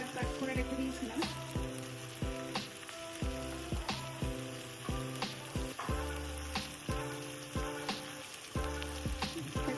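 Sliced beans and carrots frying in a hot pan for chili garlic noodles, a loud continuous sizzle with rhythmic tossing and scraping repeating every second or so, with background music playing throughout.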